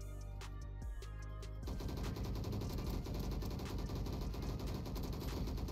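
Rapid LMG machine gun fire from the Roblox game Bad Business, a dense continuous rattle of shots fired close by that runs without pause after a brief choppy start.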